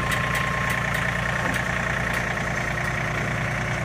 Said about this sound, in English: Today we're going to show you about a 35 horsepower compact tractor with a bush hog rear attachment